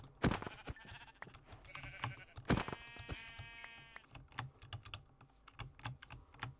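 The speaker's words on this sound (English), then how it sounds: "back to killing all those sheep" Sheep bleat several times in the Minecraft video game while a computer keyboard clatters nearby, with brief spoken sounds mixed into the busy gameplay.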